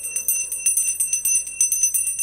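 A hand bell rung in a municipal council chamber, with rapid, evenly spaced bright metallic strikes ringing close and clear, and no talk over them.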